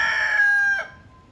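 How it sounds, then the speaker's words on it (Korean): A rooster crows once in the LA Koreatown residential area near 8th Street and Kenmore, a loud, close, piercing call that holds steady and then drops off sharply, leaving quiet behind it. "새벽마다 닭 울음소리가 난다."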